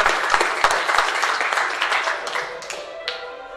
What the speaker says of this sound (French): Donc, on peut applaudir bien fort.